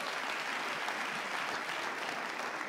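A studio audience at a game show applauds, a dense, steady wash of clapping that holds at an even level with no voices rising above it.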